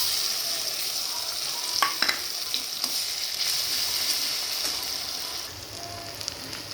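Chopped onions and garlic paste fry in a pan, giving a steady, close sizzle broken by a few sharp clicks and scrapes from stirring, with no talking.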